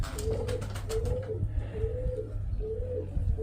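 Pigeons cooing nearby in a loft, a steady series of soft, rounded coos repeating every second or so over low outdoor background noise, with no talk.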